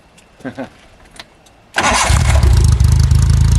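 After a few quiet moments with brief voices, the Renobug old-school rally car engine bursts into life with a loud start and settles into a rough, throbbing idle close by.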